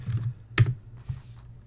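Keys on a computer keyboard clack a few times close to the microphone, with one sharp loud keystroke in the middle and softer taps around it.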